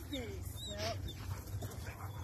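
Two dogs playing together off leash outdoors, giving soft whimpers, yips and playful vocal sounds over a steady low background rumble, fairly faint and distant, with people talking nearby.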